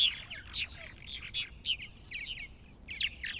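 A colony of purple martins calling from nest boxes on a farm: repeated high chirps and gurgling tweets from several birds, faint and somewhat distant, with no voices.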